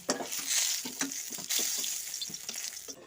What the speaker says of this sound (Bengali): গ্যাসের আঁচটা একটু বাড়িয়ে দিয়েছি হবে আমার পটলগুলো কষা হয়ে গেছে